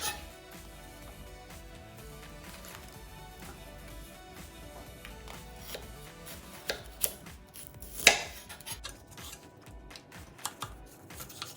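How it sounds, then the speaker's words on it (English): A knife slices tender stem broccoli in half on a board, giving a string of crisp, quiet chops with a louder cut near the end. No one speaks. "here I have got just a handful of tender stem broccoli, and I'm just going to try and slice it into half"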